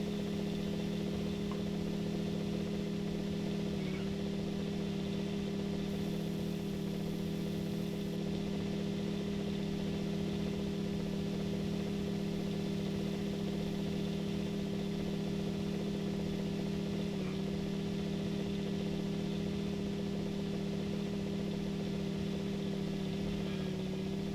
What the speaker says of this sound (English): Sounds a bit dodgy, doesn't it? No gears in this old landy.